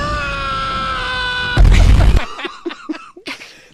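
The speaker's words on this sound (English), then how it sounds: "Is this deserving of a male scream?" A loud male scream sound effect bursts out as a harsh, noisy shout, followed by a few shorter, broken vocal cries that fade out.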